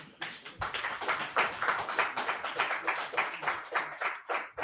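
A room audience claps in a steady, lively rhythm, many hands heard up close without pause.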